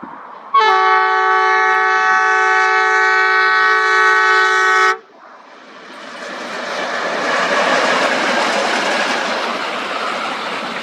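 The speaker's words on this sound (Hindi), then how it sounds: "अपने समय के सबसे दमदार और सबसे शानदार जो लोकोमोटिव थे वो थे अमेरिकन लोकोमोटिव, जिनको एल्को कहते थे।" An ALCO diesel locomotive sounds a loud, sustained multi-tone horn for about four seconds, then its train rumbles past with rising and fading rail noise, and no one speaks.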